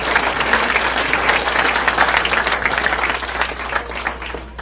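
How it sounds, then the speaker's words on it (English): Audience applause at a baseball hall of fame induction ceremony, a steady dense wash of many hands clapping that holds throughout without talk. "here you go. You can applause"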